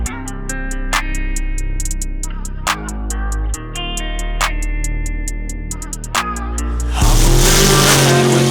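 A lifted mud truck at a Georgia mud bog revs its engine hard in repeated surges, loud and close, with a steady rumble between blips and a burst of spray or roar near the end.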